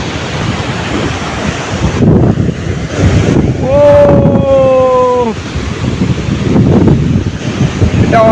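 Waves break and churn at Kuakata beach, loud and close under strong wind buffeting, with a voice briefly calling out in the middle.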